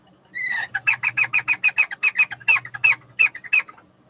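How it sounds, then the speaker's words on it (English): A 1978 Mego Corp 8 Track Robot toy emits a rapid run of about twenty short, bright electronic chirps like a bird, evenly paced with a few small gaps, loud and close over a faint low hum. "It's chirping like a bird."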